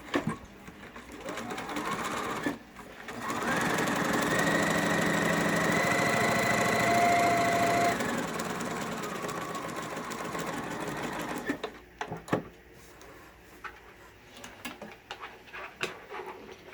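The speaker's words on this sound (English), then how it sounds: "I'm going to fold two sides together and sew a seam on this one edge." A sewing machine stitches a seam along one edge of a fabric PPE mask, a steady close mechanical whir for several seconds after brief handling noises, then quieter rustling and clicks, with no talking.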